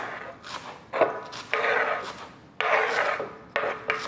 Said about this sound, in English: So we're going to chop it really fine.